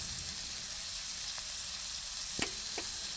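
Mustard seeds and cumin sizzle steadily in hot oil for a besan pithla cooked over a village wood-fired stove, a soft continuous hiss with a few brief sharp pops near the end.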